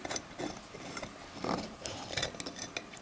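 Small screw being tightened on a push-button switch fitted into an articulated desk lamp, giving soft, close mechanical clicks and scrapes in short irregular bursts, with no talk.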